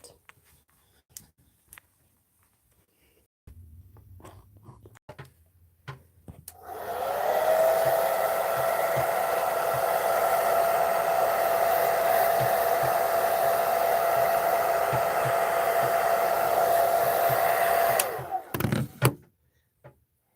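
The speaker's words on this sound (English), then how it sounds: "I'm gonna go blow dry my hair to see how it turns out" A hair dryer blows at close range in a steady, loud whoosh with a whining tone for about ten seconds, then cuts off; scattered clicks and handling knocks come before and after.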